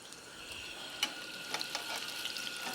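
Fish pieces coated in egg batter fry in a pan with a steady, close sizzle, broken by small scattered pops and crackles.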